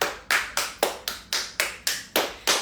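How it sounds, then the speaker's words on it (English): Hands clapping in an online fascial movement class, nine crisp, evenly spaced claps at a slow steady rhythm, close and loud, with no voice. "And let's clap our hands."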